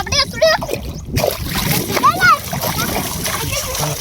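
Children splash while swimming, with close, loud bursts of splashing water mixed with shouting and chatter from kids and adults nearby.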